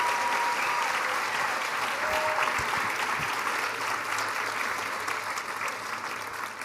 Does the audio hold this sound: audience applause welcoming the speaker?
yes